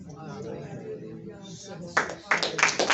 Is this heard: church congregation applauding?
yes